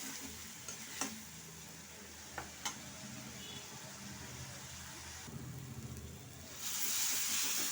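Spice paste and tomato paste sizzle and fry in a pan for a jackfruit and chana dal curry, a steady close hiss with a few sharp clinks of stirring and a louder burst of sizzling near the end.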